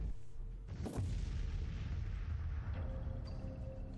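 A single heavy boom from ship turrets firing in the space strategy game Master of Orion, followed by a long rumbling decay and a low hum, fairly faint overall.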